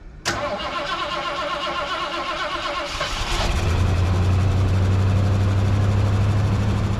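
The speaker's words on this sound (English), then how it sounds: "this thing does not like that old gas. I might have underestimated it a little bit, getting some pinging, and definitely 2 misfires" A 1979 Ford Ranchero GT, sitting for 20 years and running on old gas, cranks and fires, then settles into a loud, close, rough idle with a low uneven rumble, pinging and occasional misfires.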